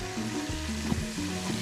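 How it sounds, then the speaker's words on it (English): Guinea fowl frying in a pan for a traditional Ghanaian dish, a steady close sizzle with bubbling crackle running throughout. "So we're just frying guinea fowl."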